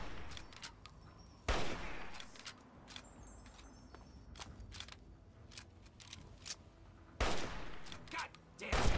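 Gunfire in the video game Fallout 3, several sharp loud single shots spaced irregularly over a quiet rustling background, with two heavier blasts standing out.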